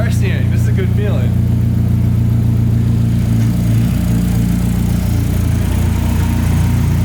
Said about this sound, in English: As you can hear, the pump's basically quieted down.